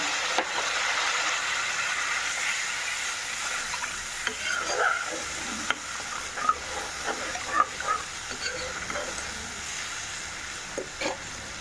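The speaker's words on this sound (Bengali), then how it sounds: "এবার আমি 2 কাপের মতন একটু জল দেবো" Pan of hot oil with tengra fish curry sizzling as about two cups of water go in, a steady hiss with bubbling crackles and a few clinks of a utensil.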